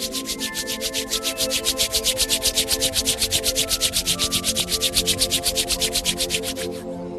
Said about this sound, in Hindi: अपनी दोनों हथेलियों को आपस में रब करें। हथेलियों को गर्म होने दें।